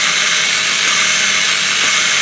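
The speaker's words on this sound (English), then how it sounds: "Put the drill on it, start spinning without being on the compound first" A power drill spins steadily to lap a Nissan engine valve, giving a loud, constant high-pitched whine with a harsh grinding edge that runs without a break.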